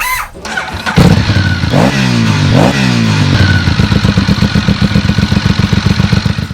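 A 2021 KTM 1290 Adventure S motorcycle engine cranks and fires up close, surges through a couple of loud revs, then settles into a fast, rhythmic, throbbing idle.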